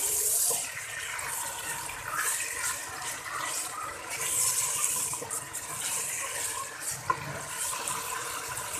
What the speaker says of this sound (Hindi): अब चिकन को इसके साथ मैं थोड़ा सा फ्राई कर लूँगी।